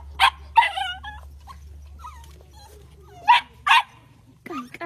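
A lively village dog lets out several sharp close barks and yips in two bursts, with softer whimpering whines in between.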